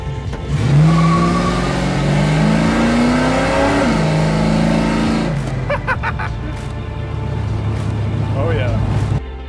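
A 1970 Dodge Charger from the Fast and Furious films revs its V8 while driving, a loud, close, throaty roar rising and falling through gear changes, with people talking over the engine.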